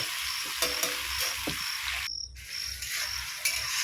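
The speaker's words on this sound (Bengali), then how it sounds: "কত সুন্দর করে সামলাগুলো ভেজে নিয়েছি" Shamla frying in a pan sends up a loud, continuous sizzle and hiss with scattered pops and stirring scrapes, briefly cutting out near the middle before resuming.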